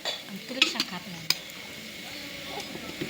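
Sprouted moth beans (matki) get stirred in a pan with a few scraping clinks of a spoon against metal, over a soft sizzle, with a voice in the background.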